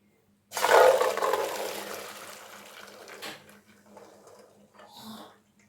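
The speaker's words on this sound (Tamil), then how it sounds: "இப்போ தண்ணியை வடிச்சிட்டு வந்துடலாம்" Hot water from boiled chana dal is poured off through a strainer in a home kitchen, a loud gushing splash that starts abruptly, then tapers into thinner trickles with a few faint clinks near the end.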